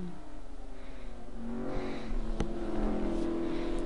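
A Nissan GT3 race car accelerates around Suzuka in a 2013 gentlemen's GT3 race, its engine note rising steadily as it pulls with straight wheels, with a sharp click partway through.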